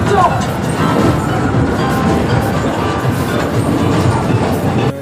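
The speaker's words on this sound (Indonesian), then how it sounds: "Selamat menikmati perjalanan bersama kereta api Taman Rusa." The Taman Rusa tourist train rolls along steadily, giving a continuous loud rumble with a faint rhythmic clatter of wheels throughout.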